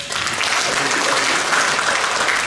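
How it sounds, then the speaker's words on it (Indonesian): Steady audience applause at a provincial student Paralympic sports week opening, dense clapping from a crowd, loud and continuous throughout. "Tepuk tangan dulu buat"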